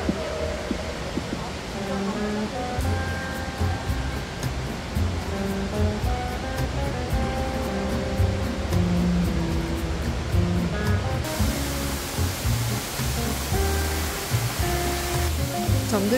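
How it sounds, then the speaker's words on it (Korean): An indoor waterfall pours inside the jungle dome of Geoje Botanical Garden, a continuous broad rushing roar with faint music and ambient sounds layered over the steady wash of water. "시원하게 쏟아지는 폭포 소리에 마음속 답답함도 느낌없이 스며내려가는 것 같아요."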